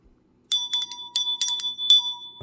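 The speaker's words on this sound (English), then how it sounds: "I get pretty fancy with the bell sometimes." A small handbell rung in a quick run of bright, sustained metallic dings, about a dozen strikes in bursts with lingering ring, close and clear with no talking.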